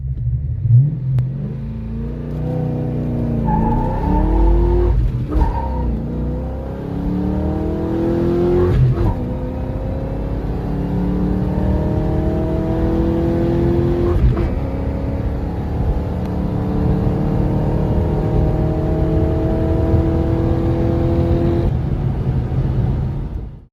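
A 1994 Ford Mustang GT, a street-and-strip pushrod SN95, accelerates hard through several gears, its engine note climbing in long rising sweeps with brief dips at each shift, loud and close throughout with no talk.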